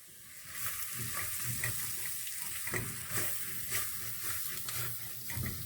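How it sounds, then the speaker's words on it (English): Onions, chilies and spices sizzling in a pan for red lentil dal, a continuous hiss with soft scraping strokes as a spoon stirs, moderately close and steady without talk. "So I've put all of that in. Got the chilies to the side, and now I'm going to stir it."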